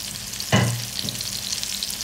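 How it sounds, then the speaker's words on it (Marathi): Surmai fish frying in a pan as oil is poured in along the side: a steady close sizzle with a brief clattering thump near the start, then continuous crackling hiss alone. "आता बाजूसून वाईट तेल कडेन असा सोडून घेतोय."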